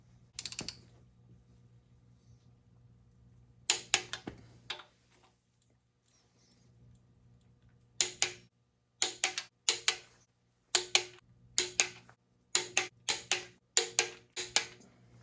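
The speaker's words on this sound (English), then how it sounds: "I'm going to torque them all at 50 first, then come back and do 100." A ratcheting torque wrench tightens cylinder head bolts on a Ford 351C or 400/351M engine, giving rapid clicking bursts in repeated short sets separated by quiet pauses.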